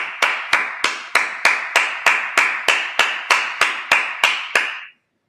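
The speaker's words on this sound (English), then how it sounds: "let's clap it up" Congregation at a Sabbath service in Minnesota clapping in unison, fourteen sharp, evenly spaced claps at a steady beat, loud and close, ending abruptly in silence.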